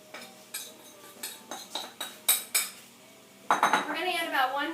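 Batter stirred with a metal spoon in a bowl, a regular series of ringing clinks about every third of a second, followed by a faster, denser burst of scraping and clatter.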